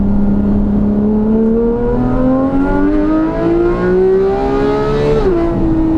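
A loud modified car engine drones and revs upward steadily, its pitch climbing over several seconds before dropping slightly at the end, close and continuous.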